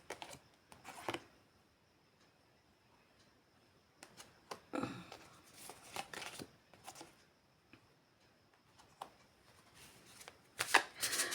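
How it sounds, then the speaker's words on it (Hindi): Tarot cards being shuffled and drawn from a deck, heard as soft scattered papery riffles and slaps in short bursts with quiet gaps, close and fairly faint. "कुछ कार्ड निकालते हैं इधर।"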